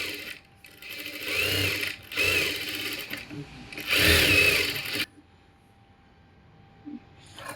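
A sewing machine stitches an umbrella frock in three loud bursts of steady whirring, separated by short pauses, before dropping to quiet; a voice talks during the stitching.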